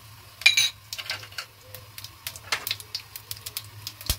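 Mustard seeds crackling in hot oil in a pan for stuffed bitter gourd masala, a rapid, irregular run of sharp close pops and clicks that continues without pause.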